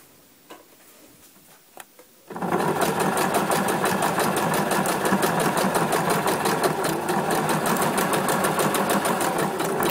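Sewing machine stitching a jeans hem with dual thread, a couple of soft taps before the motor starts, then a loud, steady rapid ticking run of stitches that carries on to the end.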